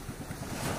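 Calm sea with gentle waves lapping and steady wind rush around a fishing boat heading out, a continuous soft wash close to the microphone with no voices.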